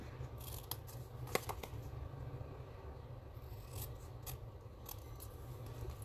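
Scissors snip through cardstock in a paper crafting project, a few sharp close cuts early on followed by quieter rasping and rubbing of paper over a steady low background hum.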